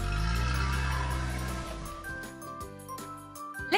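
A toy ice cream truck in a children's puzzle game plays a soft, tinkling jingle, a short run of chiming tones over quiet background music.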